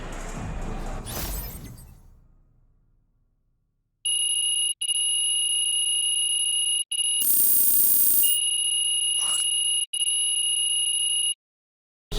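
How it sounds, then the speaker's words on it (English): Loud electronic alarm clock buzzing in the video game NBA 2K26, sounding in several steady beeping bursts separated by short gaps after a crashing sound. "you hit the snooze on your alarm clock, Lazar?"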